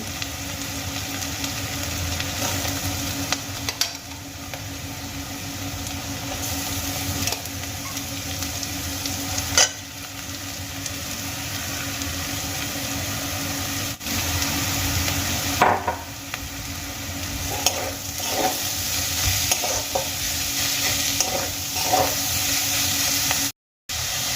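Grated cauliflower frying in a pan with spices, a dense steady sizzle running throughout with occasional stirring clatters, briefly cutting out near the end.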